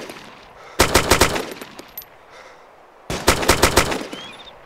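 Two short bursts of rapid automatic gunfire are aimed at another player in the video game DayZ. They come loud and crisp, with a quiet gap between them and no talking.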